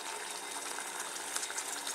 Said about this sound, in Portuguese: Olha como tá borbulhando.